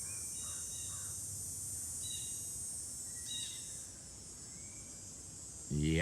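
Two crows caw a few times at a distance in a quiet outdoor morning in New England, over a steady high drone of September cicadas, with a brief louder rustle at the end.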